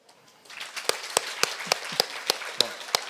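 Audience clapping in a rehearsal at a typography conference, starting thinly and building into scattered sharp claps with a few louder hits, modest in size rather than a full roaring ovation.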